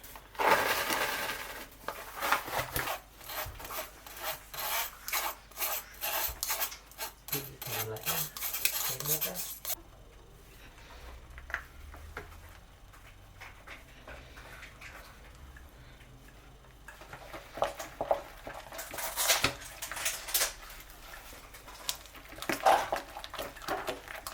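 Icing sugar tipped into cheesecake filling and mixed in a bowl, with repeated clinking and scraping of a utensil against the bowl, busy at first, quieter through the middle, then rising again near the end.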